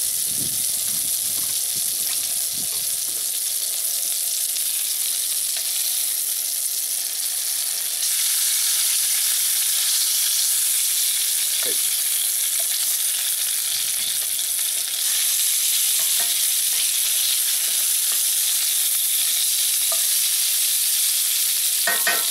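Waffle batter sizzles and steams inside a cast iron waffle iron, a loud steady hiss that carries on unbroken with a few faint clicks and small pops.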